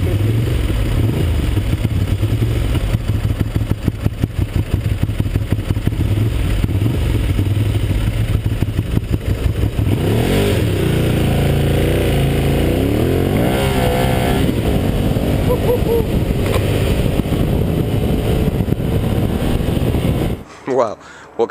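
A Ducati Streetfighter motorcycle accelerates hard with a loud, roaring exhaust, its engine note climbing and sweeping through revs, heard up close and continuous with heavy wind rush before cutting off abruptly at the end.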